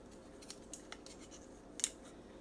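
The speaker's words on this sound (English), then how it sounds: "so now I'm just going to take my kitchen scissors" Kitchen scissors give a few faint, quiet snips and scrapes while working homemade pizza dough, with two sharper clicks near the end and no talking.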